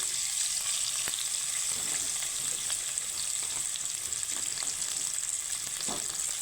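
Chopped onions frying in a pan give off a steady, dense sizzle up close, unbroken throughout with faint occasional stirring taps and no voices.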